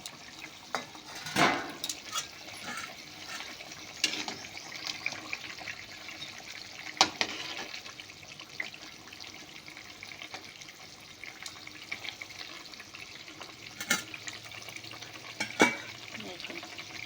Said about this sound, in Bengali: এরপর আমি ঝোলের মধ্যে মাছটা দিয়ে দেবো।